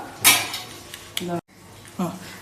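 A metal lid clatters onto a chicken biryani pot with a few sharp clinks and scrapes at close range, and a voice speaks briefly alongside.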